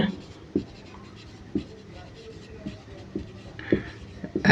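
Pen writing out a maths solution for a primary-school problem on paper: soft scratchy strokes broken by a few sharper taps, close and fairly quiet, under faint speech.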